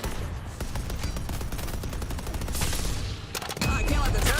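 Turrets in a video game fire rapid, continuous bursts of gunfire that build into a dense, loud barrage and swell louder near the end.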